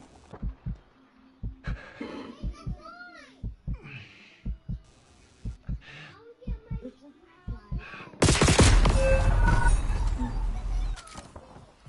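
Warzone battle royale gameplay with rhythmic thumping footsteps and scattered in-game sounds, then a sudden loud burst of shotgun fire that rings out densely for several seconds.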